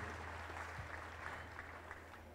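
Steady audience applause at a technical-school graduation ceremony at Manuela Beltrán, a quiet, even clatter of many hands clapping throughout, slightly distant with a low hum underneath.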